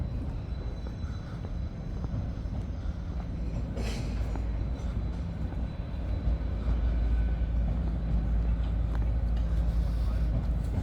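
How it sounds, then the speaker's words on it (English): A deep, steady rumble of an LNER train rolling into a station at a distance in Leeds, low and continuous, with a brief higher rattle partway through. "LNER there on the railway going into the station."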